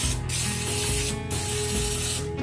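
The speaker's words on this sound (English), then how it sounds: "We're gonna spray it down with your favorite kitchen spray." Pam cooking spray hisses steadily onto a tray, a close, loud aerosol spray with two short breaks between bursts.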